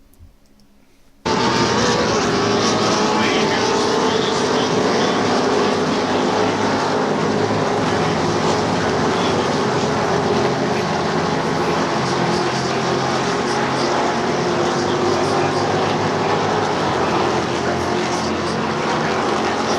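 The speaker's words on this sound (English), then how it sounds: "hard under braking in his Ford Mustang" A Ford Mustang race car braking into a turn at Sebring during an SVRA race makes a loud, sustained engine roar from trackside that starts abruptly after a brief quiet moment and holds steady for the rest of the stretch.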